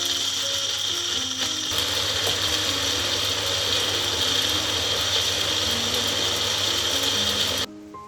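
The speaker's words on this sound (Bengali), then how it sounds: "এবারে এগুলোকে একটু ঘুরিয়ে নিয়ে মিক্সিতে পেস্ট করে নেব" A kitchen mixer grinder blending almond chutney paste, a loud close grinding whir with a rattling mechanical edge running steadily for several seconds before cutting off abruptly.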